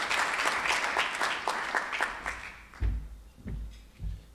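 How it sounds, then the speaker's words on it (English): Morning audience applause at a keynote talk, a dense patter of many hands that tapers off after a few seconds into a few scattered thuds and handling knocks. "Please give him your early morning applause"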